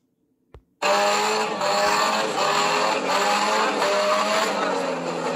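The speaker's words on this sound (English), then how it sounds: "right now, I'm trying to keep the car going. I'm kind of stuck in some mud right there" A Buick Century demolition derby car stuck in mud, its engine suddenly roaring to high revs after a brief click and holding a loud, strained, wavering whine close by.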